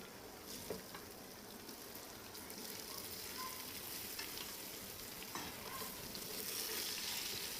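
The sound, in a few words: boiled beetroot added to potatoes frying in a pan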